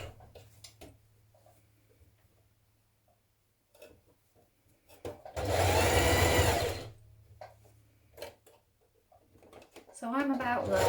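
A sewing machine stitches a seam hole closed on a scarf with a steady whirring run of about a second and a half, then a shorter burst at the end. Quiet handling noises come before it, along with a low hum.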